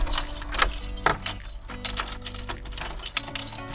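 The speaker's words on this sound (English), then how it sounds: "You need a lot of keys" A large bunch of keys jangles and clinks repeatedly at close range around a 110-year-old homestead property, in a steady metallic rattle with no talking.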